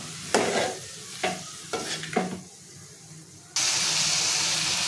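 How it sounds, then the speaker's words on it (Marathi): Masala for prawn curry being stirred in a pan, four distinct scraping stir strokes over a low sizzle, followed by a sudden louder steady hiss of frying. "ते सर्व व्यवस्थित मिक्स करून घ्यायचे।"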